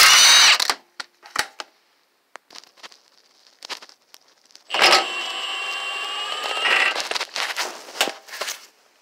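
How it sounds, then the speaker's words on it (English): A rented tie rod puller works the outer tie rod end loose from the steering knuckle of a Honda Civic, with sharp metallic clicks followed by a sustained mechanical whir and more clicks, close and loud. "I'm going to go ahead and use a puller that I rent from the auto parts store."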